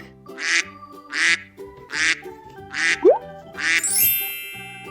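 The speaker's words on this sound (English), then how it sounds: "Oh, here. A duck." Loud, close duck quacks repeat five times in a steady rhythm, from a toddler farm-animal puzzle game, the last one trailing into a bright chime.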